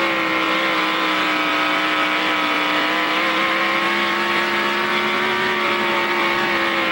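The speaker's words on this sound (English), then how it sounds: "There you're on board with Donnie Schatz." A World of Outlaws sprint car is heard onboard at Lowe's Motor Speedway, its engine roaring loud and continuous at high revs with slight pitch shifts through the laps.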